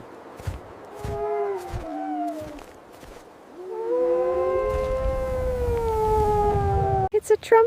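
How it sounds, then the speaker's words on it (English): A wolf howls in long sliding tones, first a few short rising and falling calls, then a sustained loud wavering howl over low rumbling noise, ending abruptly with a burst of other sound. "It's a wolf."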